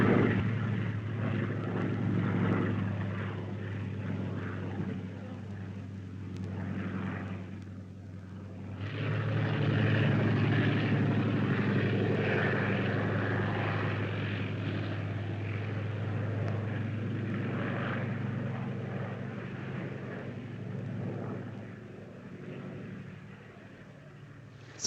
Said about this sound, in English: Scouting plane, Wiesler Storch.